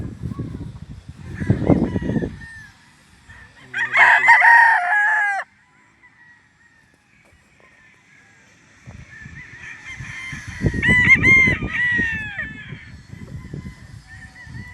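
Roosters crow loudly and close by on a farm, two long calls separated by a pause, with low clucking and rustling of chickens underneath.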